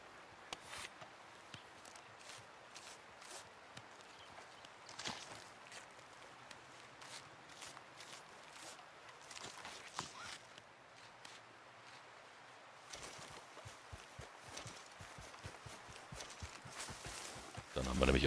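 Hooves of a horse in the video game Red Dead Redemption 2 Online clop quietly and unevenly over the ground, faint and sparse at first, then quicker and denser toward the end.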